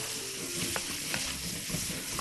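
Onions fry in a pan with chili and bell peppers, giving a dense, steady sizzle and crackle close up. A few faint stirring clicks sound through it, and no one speaks.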